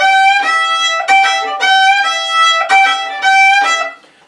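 A violin plays a minor blues lick in a long-short shuffle feel, several bowed phrases with bright, close tone and short breaks between them, played solo without talking.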